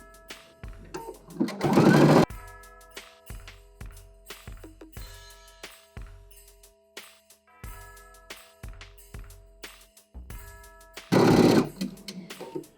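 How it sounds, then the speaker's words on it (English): A sewing machine stitches stretched elastic onto cozy indoor slippers in short separate bursts of rapid needle chatter, pausing between runs, with two longer, louder stretches of continuous stitching near the start and end. "So sew a little, stop, and then reposition and re-stretch."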